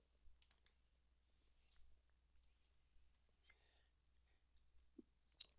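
Someone types on a computer keyboard: sparse, quiet clicks in small irregular bursts, with no talking.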